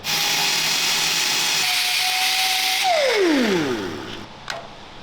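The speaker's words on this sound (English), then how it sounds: "I'll just wire wheel a bit more in that area" Wire wheel grinding rust off a WW2 Wespe self-propelled gun's volute spring, a loud continuous abrasive whine that shifts and drops in pitch as the tool spins down, with no talk.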